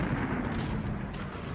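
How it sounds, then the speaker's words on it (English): A hollow charge detonates on top of a Belgian fort's observation dome, a heavy, sustained roaring blast with deep low rumble filling the moment. "The massive explosion instantly killed the 2 Belgian soldiers manning the position."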